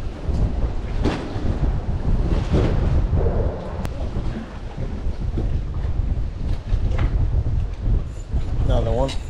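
Steady wind buffeting the microphone out on the water while crappie fishing from a boat, a constant rumbling roar that fills the whole clip, with occasional faint knocks and rustles.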